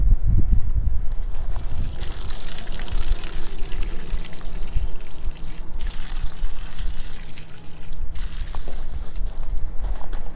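Water pours and splashes steadily as a portable on-the-go water softener is rinsed out, a loud, close rushing wash with gurgling underneath that continues throughout without pause.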